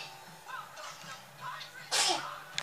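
A single sharp, explosive sneeze near the end, close by, after a stretch of quiet background sounds.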